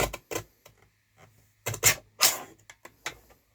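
Paper is cut into half-inch strips on a trimmer, short dry slicing and rubbing strokes in irregular bursts separated by near-silent pauses, close and fairly quiet.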